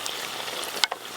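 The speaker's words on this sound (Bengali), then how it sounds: "এইভাবে সব পরোটাগুলো ভেজে নেব।" Dhakai paratha frying in hot oil, a steady close sizzle throughout with a brief sharper spatter or clink near the end.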